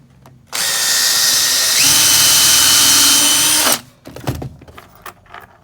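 A power drill drives screws into a wooden Nintendo display shelf, one loud sustained whir of about three seconds with a slight pitch step midway, followed by light clattering handling sounds.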